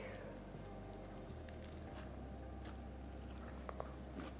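Someone bites into and chews a pulled turkey lettuce wrap made from leftover turkey, with faint, close crunching and soft wet chewing noises over a quiet background.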